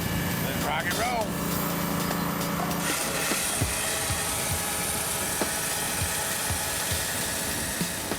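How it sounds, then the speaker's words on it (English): Diamond-tipped chainsaw cutting through brick walls over a meter thick, a harsh continuous grinding buzz with brief impacts and scraping, loud and close, with a voice partly over it. "The walls are over 1 meter thick, and so tough that only diamond-tipped chainsaws will cut through them."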